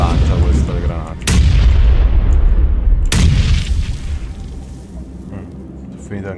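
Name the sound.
grenade explosion in PUBG video game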